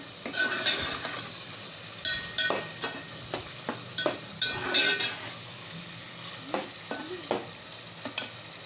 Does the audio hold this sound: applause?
no